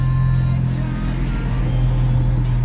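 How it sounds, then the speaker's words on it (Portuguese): Steady engine drone from a Volkswagen Polo TSI car, a continuous low hum with a strong tonal band, heard close and constant with no talking. "o barulho do seu carro parece o Monza velho do meu pai"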